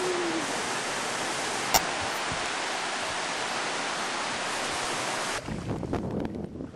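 A waterfall on the Wailua River in Kauai pours as a steady, loud broadband rush that holds for about five seconds before thinning into softer, uneven splashing.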